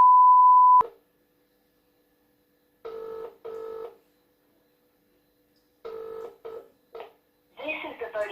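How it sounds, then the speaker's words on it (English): Telephone keypad tones: one long steady tone is followed by several short beeps in two clusters, separated by near silence. A brief burst of other sound comes at the end. "I'll ring them up for you, Sharpie."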